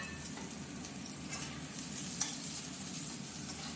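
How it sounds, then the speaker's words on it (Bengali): Chopped garlic, onion and green chillies frying in hot mustard oil in a pan, a steady close sizzle with faint stirring scrapes and no voices. "কড়াইতে সর্ষের তেল গরম করে নেওয়া হয়েছে ফ্রাইং প্যানে। আর হচ্ছে এবার দিয়ে দেওয়া হলো কেটে রাখা রসুন, তার সঙ্গে পেঁয়াজ, তার সঙ্গে কাঁচা লঙ্কা"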